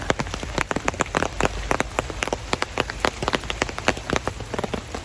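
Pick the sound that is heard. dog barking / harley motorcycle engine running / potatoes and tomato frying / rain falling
rain falling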